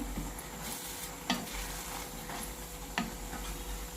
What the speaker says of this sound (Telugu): రెండు అంగుళాల చింతపండు వేస్తున్నానండి గోంగూరతో పాటు ఇది కూడా మగ్గిపోద్ది చిన్న చిన్న ముక్కలుగా చేసి వేస్తున్నాను ఒకసారి దీన్ని కలుపుకుందాము